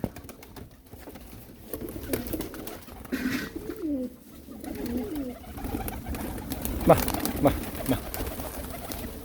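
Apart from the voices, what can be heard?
pigeons cooing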